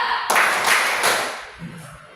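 Two or three sharp hand claps ring out in quick succession, fairly loud and close, in a classroom-style setting with faint murmuring afterward.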